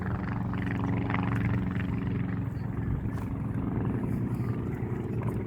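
Propeller aircraft making a crossover pass at the Duxford air display, a steady loud engine drone with broad rumble that holds throughout without a break.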